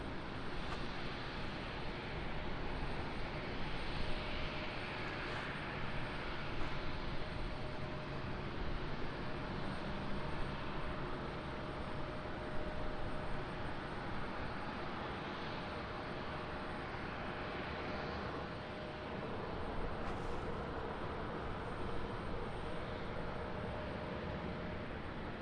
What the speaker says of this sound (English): we got a Velo. Making its way out for departure.